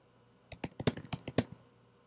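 Keys clatter on a computer keyboard in a quick burst of about ten close, crisp clicks over roughly a second, with no voice over them.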